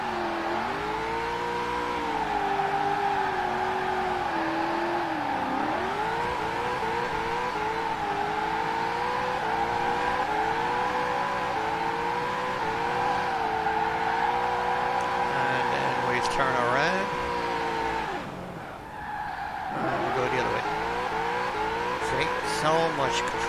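Virtual 1968 Mustang GT 'Eleanor' engine in Forza Horizon 4, held in low gear at high revs while drifting: a loud, sustained, close engine drone whose pitch sags and recovers, with one brief dip near the end.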